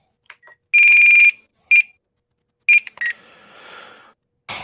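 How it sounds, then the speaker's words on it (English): A remote-control hobby electronics setup gives off loud, close electronic beeps: a long steady tone, then shorter beeps at intervals, with some softer noisy rustling between them. "Sorry for the beeping."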